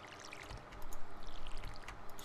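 Crops get watered in Stardew Valley with a short splashing, pouring gush of water that swells midway and then trickles on, fairly quiet, with no voices.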